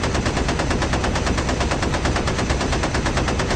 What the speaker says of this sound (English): First, gunners Kranz and Stanienda fire at the 10:30 Bandit